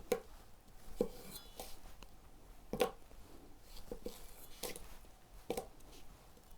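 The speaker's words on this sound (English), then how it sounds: "And now we're going to slice these into a quarter." Food being sliced into quarters with a Chinese cleaver on a cutting board, a series of sharp, close knocks spaced irregularly about a second apart over a quiet background.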